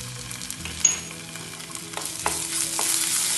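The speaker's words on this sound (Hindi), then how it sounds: "इसको थोड़ा सॉटे करेंगे।" Chopped onion and chili with ginger garlic paste sauté on a low flame in a pan, giving a steady close sizzle broken by a few sharp crackles and soft stirring scrapes, with no one talking.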